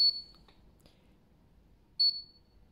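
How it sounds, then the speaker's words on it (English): A Moxie machine emits two short, sharp electronic beeps about two seconds apart during a firmware update, each clear and close against a quiet background. "The single beep will beep for a while."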